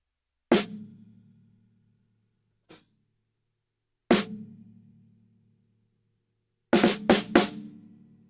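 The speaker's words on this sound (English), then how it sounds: "Okay, that's the snare drum." A snare drum struck alone, close and crisp: single hits with a rattling decay, a light tap, another full hit, then a quick cluster of three strokes near the end.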